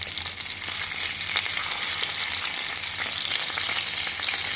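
Soft pieces of lemon butter garlic food frying in a pan over medium heat, a loud continuous crackling sizzle with faint stirring and turning noises, no voices.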